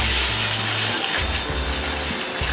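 Cold tap water pours into a home brew fermenter, a loud, continuous gushing rush close by with a low pump-like rumble that drops out briefly midway before resuming.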